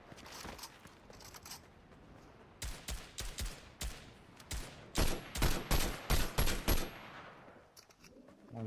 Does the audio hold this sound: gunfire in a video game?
yes